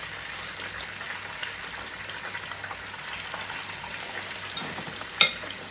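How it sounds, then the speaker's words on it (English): Chicken for Jamaican fricassee chicken fries steadily in a pan with a continuous crackling sizzle, close and even, ending with a brief knock near the end. "I'm going to put the chicken in here to fry."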